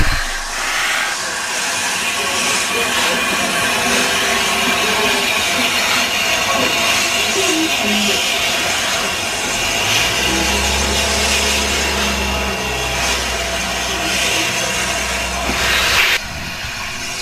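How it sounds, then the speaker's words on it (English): The streamlined Pacific steam locomotive Bittern, number 60019, moves off along the next track with a continuous breathy hiss of steam and a low mechanical rumble. Toward the end a deeper, heavier drone builds underneath. "Hearing steam noises, I got back on board and saw to my delight Bittern on the next track, just moving off to join the train"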